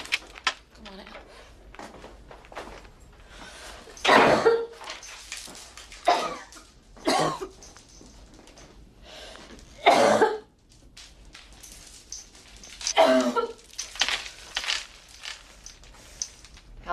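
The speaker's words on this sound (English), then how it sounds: "How long have you had that cough?" Several harsh, hoarse coughs from a person in a movie scene, coming in separate bursts with quiet gaps between them, close and loud, with faint movement noises in between.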